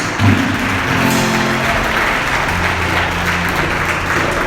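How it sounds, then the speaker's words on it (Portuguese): A congregation claps for Jesus during a Portuguese-language evangelical worship service, a continuous crowd of hands applauding over sustained instrumental tones, steady and fairly loud throughout. "Dê uma salva de palmas para Jesus"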